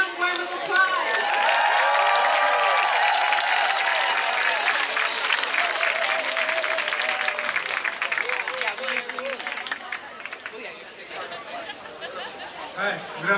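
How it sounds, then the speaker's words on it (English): Warm applause from an outdoor crowd at a Grassy Narrows River Run rally in Toronto, steady clapping with chatter and cheers that fades somewhat toward the end. "Can we give Chief Turtle a round warm of applause?"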